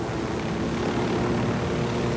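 A helicopter in the military shooter Ghost Recon Wildlands flies at high speed, its rotor and engine making a loud, continuous, dense droning roar up close with no pauses.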